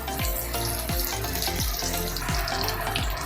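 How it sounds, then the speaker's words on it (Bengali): Four eggs frying in hot oil over a low flame for egg chilli, giving a steady, close, loud sizzle with faint recurring swishes. "এইবার তেলটা গরম হয়ে গেছে, ডিমটা এবার আমি ভেজে নেবো"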